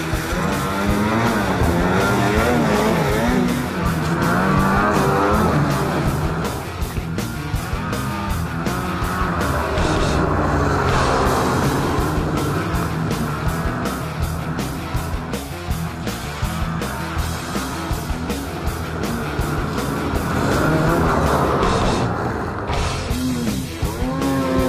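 Arctic Cat Bearcat Z1 XT or ProClimb M snowmobile engine, running loud and close throughout, with a sustained droning roar that rises and falls in pitch.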